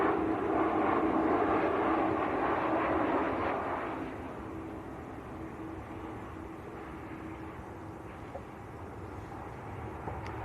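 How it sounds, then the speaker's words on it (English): A TUI airliner on short final approach at Manchester Airport gives a fairly faint engine drone that is strongest at the start, then fades to a low steady hum as it passes, with no voices. "TUI on short finals."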